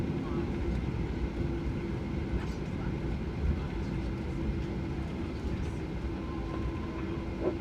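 An airliner taxis at Melbourne Airport just after landing, heard from inside the economy cabin as a steady loud engine and cabin roar with a faint low hum running through it.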